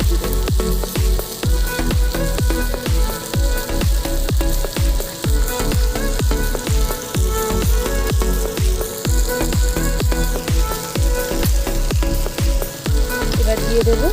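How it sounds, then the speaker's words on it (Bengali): Chopped tomatoes frying lightly in an oiled pan for a small-fish curry in a village kitchen, with a steady loud sizzle and a fast rhythmic ticking of a spatula stirring throughout. "টমেটো দিয়ে টমেটোটা হালকা করে ভেজে নেওয়া হলো।"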